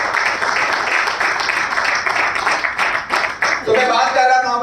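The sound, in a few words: audience applause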